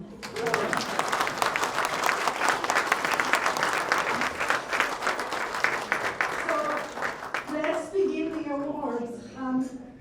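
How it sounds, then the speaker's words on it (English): Audience applause, dense and sustained for several seconds, then thinning into scattered claps with a few voices calling out near the end. "You may applaud now."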